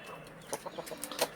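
Soft, rapid clucking from a few chickens nearby, short uneven bursts over a quiet background.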